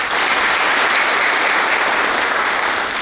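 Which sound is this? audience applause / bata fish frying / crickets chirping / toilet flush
audience applause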